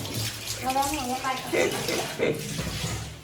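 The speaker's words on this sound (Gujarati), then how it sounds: "અત્યારે છે ને મેડમ વાસણ ધોવે છે." Water runs steadily from a tap as dishes are washed, with someone talking over the splashing flow.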